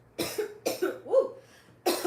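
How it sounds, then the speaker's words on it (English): A person coughs three times in quick succession, harsh, close and dry, with a brief throaty rasp between the first coughs and a pause before the last. "That's why I'm coughing."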